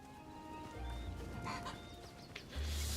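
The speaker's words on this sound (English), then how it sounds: "you all look a bit like female chickens" Chickens clucking in the video game Hytale, several soft farmyard clucks and calls close by over a quiet background.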